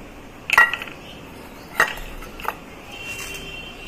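Chopped green chili, grated garlic and diced tomato go into a cooking dish with a few distinct metallic clinks of a spoon against the pan and quiet handling noise in between.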